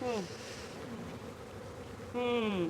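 Honey bees buzz densely inside an opened wooden bee box holding ten frames, a loud continuous close-up drone with the pitch wavering as the swarm stirs.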